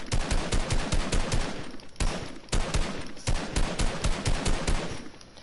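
Rapid gunfire in Fortnite, sharp shots fired one bullet at a time in quick succession, loud and close in two continuous bursts with a short break between them.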